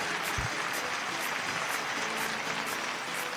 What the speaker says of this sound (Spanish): Un aplauso fuerte para ustedes. Apláudanse ahí